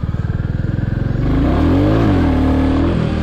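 A motorcycle engine pulses in low-gear idle, then revs hard and loud with rising and falling pitch as the rider tries to pop a wheelie.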